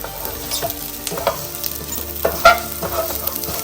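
Rice sizzling in ghee in a pan, a steady close crackle broken by repeated stirring scrapes and a few louder knocks of the spoon, no voices.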